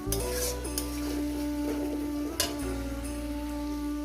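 Spices and a few grains of sugar are sautéed in a pan for a potato and pointed-gourd curry, with steady close sizzling under repeated metallic scrapes and clinks of the spoon against the pan.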